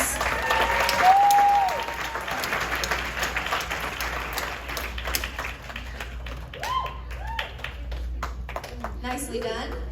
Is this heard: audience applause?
yes